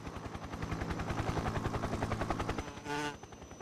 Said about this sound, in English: The helicopter. That's pretty loud.